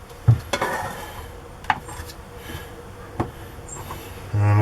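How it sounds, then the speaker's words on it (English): Boilie paste sausages are cut to length with a plastic lid, giving a few sharp taps and scraping rubs on a hard work surface, close and fairly quiet, with no talk. "You can use your lid just to cut each sausage"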